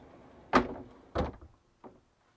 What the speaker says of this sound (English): You've got these doors that magnet right in the middle.